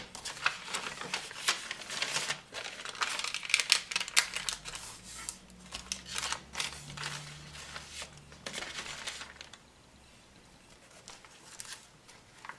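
Paper for a junk journal notebook is folded, tinted writing-notebook pages giving soft rustles, creases and crinkles. The sounds come in irregular bursts, close and fairly quiet, and fade toward the end.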